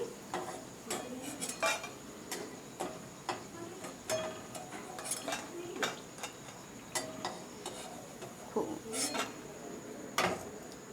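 Fried potato fritters lifted from a pan in a home kitchen, heard as steady light metal taps and scrapes of a utensil against the pan, with a faint sizzle beneath and no talking.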